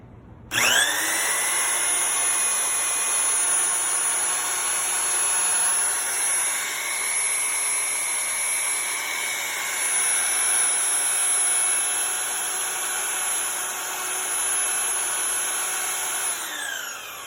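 A Harbor Freight tubing bender with an off-road kit, driven by a hydraulic power pedal with its trigger zip-tied, runs as a steady whining motor drone, loud and unbroken for about sixteen seconds, no voices.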